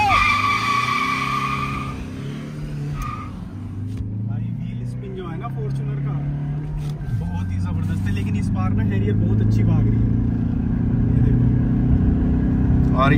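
A Toyota Fortuner launches with traction control off in a drag race against a Tata Harrier. Tyres scrub and the engine note climbs steadily through the run while people talk excitedly over it.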